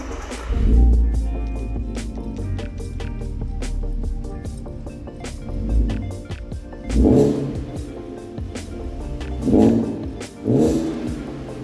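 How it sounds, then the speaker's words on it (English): A 2008 Audi TT VR6 with a road-legal aftermarket exhaust, its engine revving in several sharp, loud bursts between steady idle-like running, each rise climbing and dropping back quickly. "the exhaust system that's on this is road legal for use there, but it still sounds absolutely fantastic"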